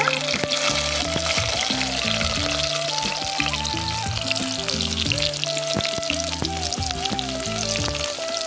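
Onions added after mustard seeds, frying in hot oil with a bright, continuous sizzle up close, while tonal background music plays underneath throughout.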